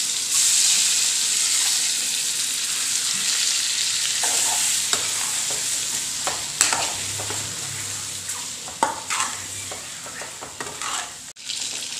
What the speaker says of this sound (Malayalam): പുഴുങ്ങി വരഞ്ഞു വെച്ചിരിക്കുന്ന മുട്ട ഈ എണ്ണയിലേക്കിട്ടൊന്ന് ഫ്രൈ ചെയ്തെടുക്കാം